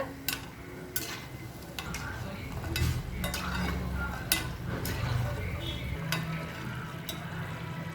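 Cheeda, a crunchy rice snack, frying in hot oil while a spoon stirs it now and then, giving a steady low sizzle with scattered sharp clinks of metal against the pan.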